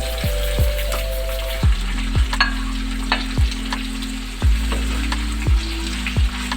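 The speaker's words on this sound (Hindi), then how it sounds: "प्याज सॉफ्ट होने लगी है। अब मैं इसमें ऐड करूँगी सारे टमाटर।" Onions and tomatoes fry in a pan, giving a steady close sizzle with repeated sharp scraping thumps of a spoon stirring against the pan.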